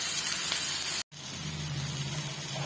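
Spices and ginger sauté in a hot pan with turmeric and chilli powder. A steady broadband sizzle carries on throughout, cut off by one brief silence before it resumes.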